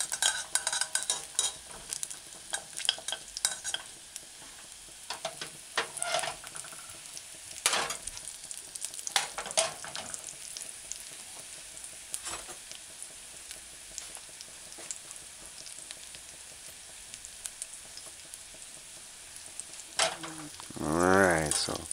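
Bay leaves and clove sauté in hot oil as a base for chicken tomato stew: a steady crackling sizzle with scattered spoon clinks and stirring scrapes, and a louder scrape and swell near the end.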